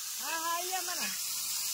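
Hot oil sizzles steadily in a tava pan as onion fries, a constant close hiss running the whole time beneath a brief voice.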